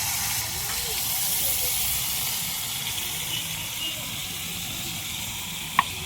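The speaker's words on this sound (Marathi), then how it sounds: "आता ही कांद्याची पेस्ट टाकून घेऊ" Onion paste sizzling in a hot pan over mustard seeds and cumin, a steady, close, broad hiss of frying lasting throughout with one small clink near the end, no talking.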